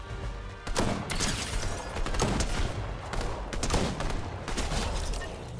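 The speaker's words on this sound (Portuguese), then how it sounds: "Eu quero vir atirando agora." Video game gunfire crackles in dense bursts, rapid shots and volleys layered over one another, loud and continuous with no talk.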